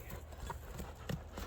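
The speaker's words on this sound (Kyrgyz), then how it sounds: "Бул ордунда тура албай аткан ат." A restless horse stamps and shifts its hooves on the ground, giving a few soft, uneven thuds at a moderate distance with no voices.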